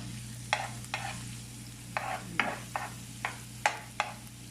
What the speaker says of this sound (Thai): เราก็มาเจียวกระเทียมกัน